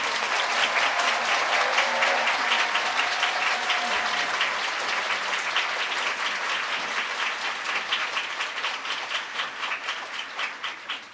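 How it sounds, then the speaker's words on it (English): Loud, sustained applause from a large audience welcoming distinguished guests at a lecture on peaceful Korean unification, thick continuous clapping that slowly thins into scattered claps toward the end. "Please give everyone another great round of applause of welcome"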